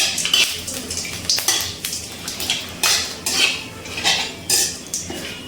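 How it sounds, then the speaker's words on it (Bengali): Whole spices stirred in hot oil in a wok for a Bengali echor chingri dish: bay leaf, cinnamon, cardamom, cloves and cumin. The ladle scrapes and clinks against the metal in repeated strokes over a faint sizzle. "ফোড়নটা তেলে একটু নাড়াচাড়া করে নেব।"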